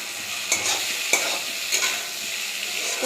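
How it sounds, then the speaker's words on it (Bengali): Crushed ginger, garlic, chilli and tomato spice paste fries steadily in oil for a fish curry, a continuous close sizzle broken by three sharp scraping stirs from a spatula. "তো মশলা দিয়ে কষাচ্ছি"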